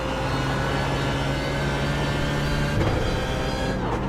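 A BMW Z4 GT3 racing car engine in iRacing at Watkins Glen drones at high revs, a steady harmonic whine with a shift in pitch near the end.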